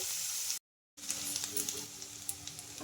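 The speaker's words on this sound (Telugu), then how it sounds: "మనకు ఈ ఆనియన్స్ అయితే బాగా సాఫ్ట్గా ఉడికించుకోవాలండి" Onions softening in a hot pan give a steady, close sizzle with small crackling pops, broken by one short silent gap, and no voices are heard.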